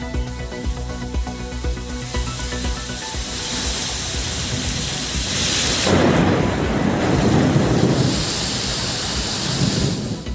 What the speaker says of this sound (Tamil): மதுரை திருமங்கலத்தில் பலத்த சூறைக்காற்றுடன் பெய்த மழை.